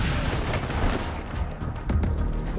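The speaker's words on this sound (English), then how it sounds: "I hear gunfire." Gunfire in Tom Clancy's The Division 2 crackling in a few sharp bursts amid a dense, noisy battle rumble, moderately loud and a little distant.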